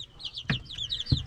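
Chickens with feathered legs cluck in a farmyard, two short low clucks about half a second apart over a background of small birds chirping nearby.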